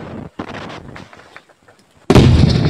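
Short automatic gunfire bursts crackle in combat at Shyrokyne, with choppy shots and faint voices before a sudden loud, sustained blast of fire near the end.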